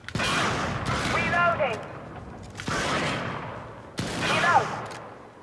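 Three powerful, booming shots from the double freedom weapon in a video game, spaced a second or more apart, each trailing off in a long reverberant tail with faint whistling tones.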